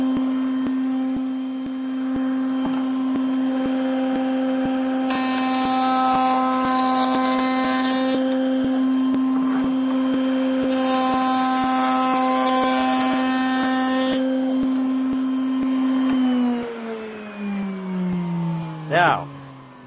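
A handheld wood router cutting mortises in a wooden block runs as a steady, loud high-pitched whine, rising and falling as it bites into the wood, then spins down near the end.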